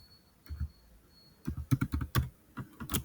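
Java code typed on a computer keyboard: after a soft tap or two, a rapid run of sharp, close key clicks follows, then a brief pause and a few more strokes.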